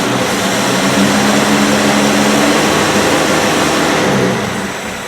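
A serviced 109 engine idles steadily, a loud continuous hum with a low even pulse that holds for several seconds before easing off slightly near the end, with no talking.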